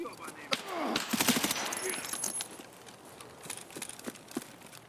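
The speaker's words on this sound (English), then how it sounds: "I start taking shots at him" Gunshots ring out in the video game Escape from Tarkov: a cluster of sharp cracks in the first couple of seconds, then scattered fainter shots trailing off.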